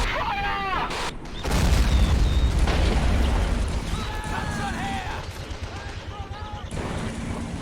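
A vehicle cabin blows apart in the World War II strategy game Men of War: Assault Squad, a loud booming blast with rumbling low-end debris, followed by scattered battle noise and a speaking voice.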